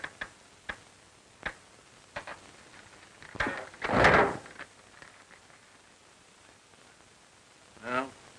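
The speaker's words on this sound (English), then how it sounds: "careful how you open the door, Joe" Old door in a 1936 western, a wooden knock and clatter leading into a loud creak and rattle as the door opens, with faint ticking in the quiet room around it.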